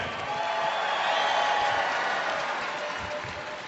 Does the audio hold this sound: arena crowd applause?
yes